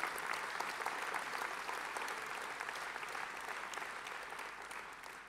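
A packed hall at a political convention in Lille bursts into sustained applause, dense and steady clapping from a large audience that stays loud throughout before easing slightly toward the end.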